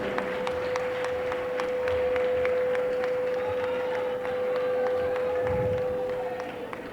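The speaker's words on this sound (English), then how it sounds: "Please keep clapping until she's seated." An audience claps steadily for the First Lady at an empowerment cash grant event, a dense, even wash of applause lasting throughout, with a steady tone humming underneath.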